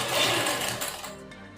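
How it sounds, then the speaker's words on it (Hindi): Sewing machine running steadily while stitching a kaftan dress, a close, continuous whirring hum that eases off slightly near the end, with no talking. "उसके बाद अब हमें इसे इस तरह से सिलाई लगानी है।"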